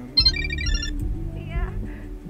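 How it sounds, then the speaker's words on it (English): A phone ringtone sounds in the horror game The Karaoke by Chilla's Art, a short melodic ring that repeats under people talking. "I'm getting a phone call again."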